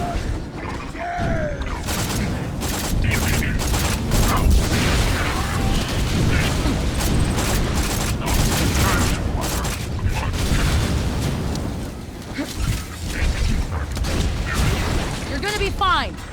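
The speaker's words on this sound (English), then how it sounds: "I can actually use my corrosive SMG for good." Corrosive SMG fire in Borderlands rattles in sustained rapid bursts with crackling impacts and mechanical clatter, loud and dense throughout, with game effects layered over it.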